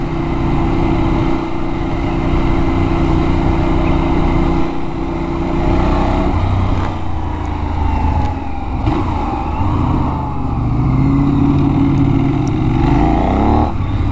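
Benelli 752S motorcycle engine droning steadily while riding, a continuous loud motor tone with rising pitch as it revs out toward the end, wind rush throughout.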